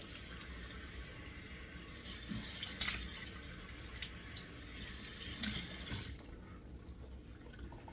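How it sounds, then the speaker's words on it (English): Cold water splashes onto a face at a running bathroom sink during a wet shave in December, with two brief splash bursts over a steady faucet stream, close and fairly quiet. "I need to close the pores with 2 splashes of cold water"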